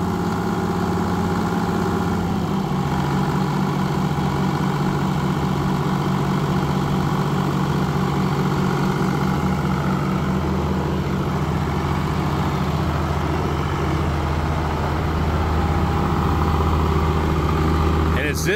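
A Mississippi circle sawmill's engine runs steadily at idle, a low continuous drone with a pitch shift near the start, while a person speaks over it.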